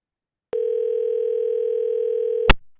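A voicemail recording tone plays as one steady electronic beep held for about two seconds, loud and clear, ending in a short click.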